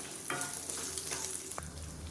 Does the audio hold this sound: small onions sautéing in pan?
yes